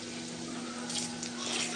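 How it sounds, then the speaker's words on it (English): Water running into a tea kettle at a home kitchen sink in Michigan, a steady close hiss of flowing water with a faint hum beneath it, no talk. "Tea kettle, fill it with water, put it there."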